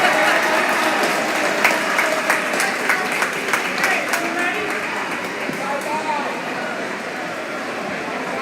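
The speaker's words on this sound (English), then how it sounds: "Can we give one last round of applause for all of our seniors tonight?" Crowd at a varsity swim meet applauding seniors on recognition night, sustained clapping in a reverberant natatorium that gradually fades to a lighter patter, with announcer speech running over it.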